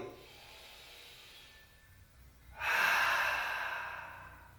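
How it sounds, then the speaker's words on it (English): Slow deep breathing during a yoga session, close to the microphone: a soft long inhale, a pause, then a strong breathy exhale through the mouth that gradually fades. "Three more deep breaths here."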